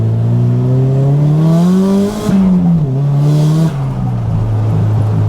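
Car engine revving hard in a steady climbing pull that drops at each shift and pulls again, loud and close, with no voices.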